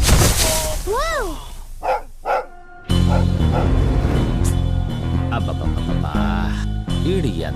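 A dog in a Telugu children's comedy film gives a few rising yelps and whines, then a loud, dense stretch of music and scene noise takes over with faint voices.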